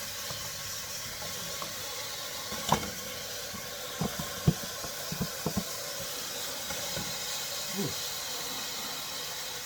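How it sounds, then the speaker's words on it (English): Ground turkey cooking in a pot gives a steady hiss of sizzling and steam, with scattered soft pops and crackles over a constant low rumble, heard fairly faintly with no talking. "Go ahead and put your ground turkey into the pot. And it's cooking."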